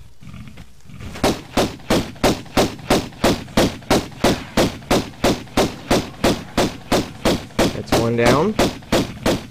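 Gunshots ring out in Tomb Raider 1 at the Cistern as animals are shot: a long, steady run of evenly spaced pistol shots, loud and close, with an animal growl near the end and brief speech among them.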